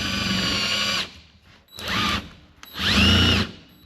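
Three bursts of a power drill whirring at high speed, grinding through the thin metal of a door, each run stopping briefly before starting again, close and loud.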